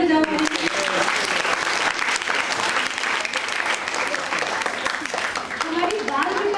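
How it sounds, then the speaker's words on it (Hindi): Children at a bal vikas class in a Sai samiti programme clap loudly together, a dense burst of applause with voices and cheering mixed in throughout. "जोर से तालियां बजाओ।"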